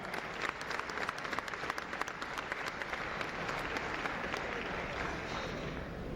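Audience applauding at the 1995 Greater Peoria Sports Hall of Fame ceremony, honoring the Bradley University Braves basketball team; steady dense clapping from a large indoor crowd, sustained evenly throughout.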